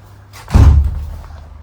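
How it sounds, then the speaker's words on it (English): A garden shed door is shut with a single loud, close thud that has a short wooden rattle and fades quickly into quiet outdoor air. "Shut that door."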